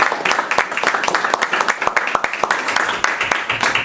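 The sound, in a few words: audience applause at board meeting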